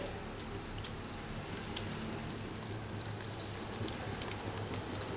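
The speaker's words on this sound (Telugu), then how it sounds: "ఎగ్ పన్నీర్ ముక్కల్ని ఆయిల్లో వేసి ఒక నిమిషం పాటు ఫ్రై చేయాలి" Pieces of egg paneer sizzle steadily in hot oil, a dense, even crackle holding at a constant level with small pops scattered through it.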